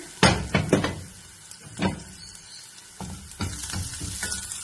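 Shallots and curry leaves frying in a pan for a green gram stir-fry, a crackling sizzle with bursts of stirring and clanks of the utensil against the pan, no talk.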